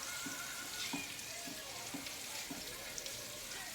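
Salmon fries in olive oil in a pan, giving a steady low sizzle with faint crackles and soft periodic clicks throughout, no voices present.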